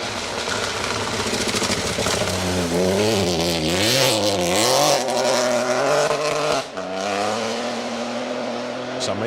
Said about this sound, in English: Sam Mason just dancing that 208 into the corner